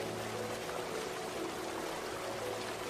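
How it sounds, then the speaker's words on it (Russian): Roar of the Zambezi River plunging about 120 metres into the gorge at Victoria Falls, a steady, dense broadband rush of falling water with no pauses, loud and continuous throughout. "Громкий рев, который издает вода, обрушивается в ущелье реки Замбези со 120-метровой высоты"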